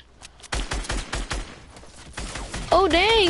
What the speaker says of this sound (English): non-stop keep on shooting your AR